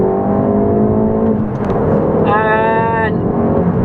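Hard acceleration in a 2020 Ford Focus ST from a roll at about 30 mph, a steady engine drone rising through the run with a brighter rising whine near the end, heard from inside the cabin.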